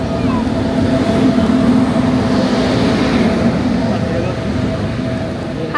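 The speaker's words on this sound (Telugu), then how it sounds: "ట్రైన్ కూడా వచ్చేస్తుంది" A train pulls into a station with a loud, steady rumble and drone that holds close and constant throughout.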